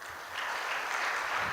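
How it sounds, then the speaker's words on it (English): Audience applause fills a talk on transitioning out of employment, a steady, dense wash of clapping that swells slightly and holds without a break. "Another round of applause."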